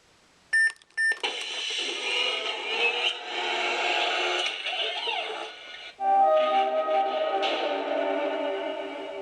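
A NECA Gears of War Lancer toy blaster's sound bank menu: short electronic beeps open, then a synthetic whirring tone sweeps and warbles, followed by a brighter electronic chime-like tone, all close and clear.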